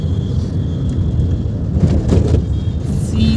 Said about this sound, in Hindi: ये देखो, हमारी गाड़ी जा रही है